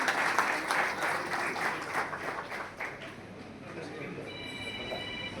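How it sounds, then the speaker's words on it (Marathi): A seated audience at a poetry book launch applauds to welcome a guest, giving a sustained ripple of many hands clapping that slowly fades, with a voice speaking over it. "उपस्थितांना विनंती आहे आपण जोरदार टाळ्या वाजवून या ठिकाणी दादांचं स्वागत करायचं"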